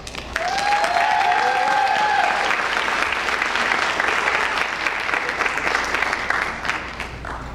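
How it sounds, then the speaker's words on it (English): An audience at a speech night bursts into a big, sustained round of applause, a dense wash of many hands clapping, loud and steady before slowly thinning, with a faint voice briefly audible. "please join us in a big round of applause."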